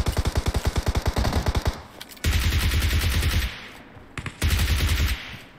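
Bursts of automatic gunfire in PUBG Mobile, a rapid volley of sharp shots followed after a pause by two more sustained fast-firing strings, loud and close.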